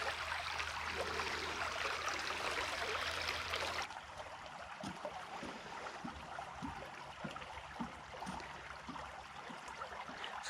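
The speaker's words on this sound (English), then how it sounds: "We have to find out what the name of this creek is" Creek water flows steadily beneath a trail bridge at Codorus State Park, York County, Pennsylvania, a broad hiss that drops to a softer trickle partway through, with light thumps like footsteps on boards.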